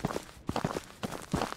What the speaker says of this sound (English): I'm hearing a lot of footsteps.